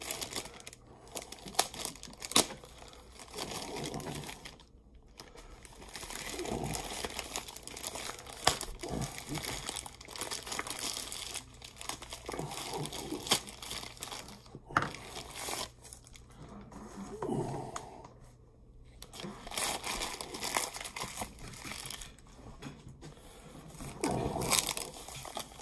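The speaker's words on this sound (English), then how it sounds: "I don't like these plastic bags covering it up like this. It's a pain in the neck to get them off." Plastic bags crinkle and crackle in bursts, with rustling and tearing sounds, as they are pulled off a power bank cover for an iPhone 12 Pro Max during an unboxing, close and fairly quiet.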